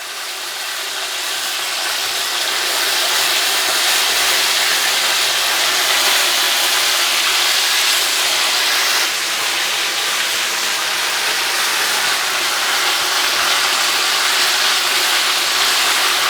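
Korean-style chicken wings in a second fry, a whole batch crackling in hot oil, give a dense, steady, loud hiss and sizzle up close that continues without a break.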